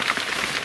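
Heavy rain pours down steadily during a bushcraft camping trip, a dense, even hiss of drops close at hand with no voices.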